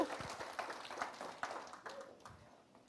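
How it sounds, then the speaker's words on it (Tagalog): A church congregation at a Father's Day service gives a short burst of applause, with quiet, somewhat distant scattered clapping continuing for a few seconds and fading out. "yung malakas ng palakpak para kay Lord"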